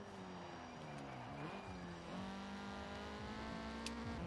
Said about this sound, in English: I quite like the sound of this car actually. It sounds like a Civic.